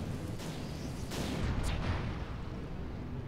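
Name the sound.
cannons firing in video game Project Nomads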